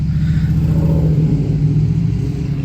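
A Pontiac GTO convertible rolls past with a loud, deep engine rumble that holds steady and then slowly fades a little as it goes by.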